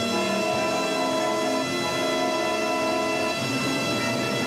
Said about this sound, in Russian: На 6-й путь счетного парка прибывает первый поезд погрузки